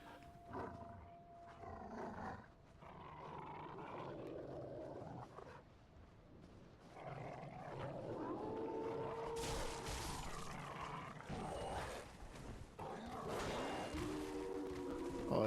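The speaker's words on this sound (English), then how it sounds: "Oh, wolves. Big wolves, too." Big wolves howl in the Dark Souls 3 video game. Several overlapping howls and roaring cries come in waves, faint at first and then growing fuller and busier in the second half.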